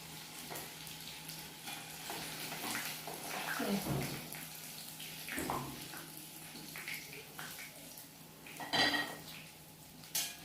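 Pieces of home-style fried chicken tumble from a pan onto a plate, landing in a few separate clatters and soft thuds over a steady crackling fry, close and moderately loud.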